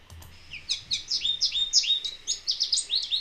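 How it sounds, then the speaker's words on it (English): Goldfinches calling outdoors, a quick run of high, bright chirps and twittering notes that repeat steadily through the whole stretch, fairly close and alone with no talking. "Goldfinches are here."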